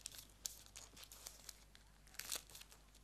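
A paper cake pattern being folded by hand, giving soft crinkles and sharper creasing rustles in short bursts, quiet and close, with no talking.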